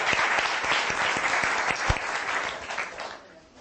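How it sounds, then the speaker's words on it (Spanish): An audience at a talk on public speaking and emotional intelligence claps together, a dense, even roar of hands that holds steady and then thins out and fades near the end. "Un aplauso para él, por favor."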